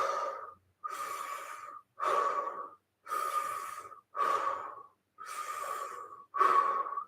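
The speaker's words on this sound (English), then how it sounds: "we're going to inhale mouth 3 times and exhale" Breathing exercise during a yoga session for fascia: seven loud, close breaths in even rhythm, each a rushing airy inhale or exhale through the mouth with short pauses between, no talking.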